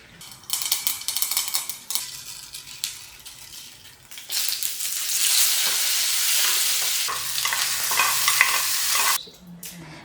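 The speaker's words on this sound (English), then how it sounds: "to make the tadka, I have oil, mustard seeds, urad dal and curry leaves" Tadka of mustard seeds, urad dal and curry leaves frying in hot oil, a close, loud crackling sizzle with stirring scrapes that swells midway and holds steady before stopping abruptly.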